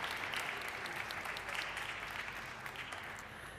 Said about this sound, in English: please, a round of applause as well for this deal as we continue to see it being signed through